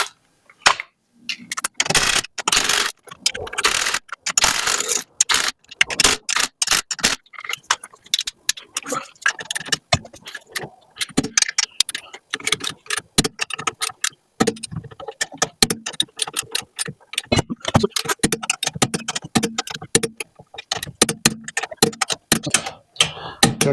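Lug nuts are driven onto a wheel of an Edsel car in loud, rapid rattling bursts of hammering clicks, repeated in quick spurts with short pauses between them.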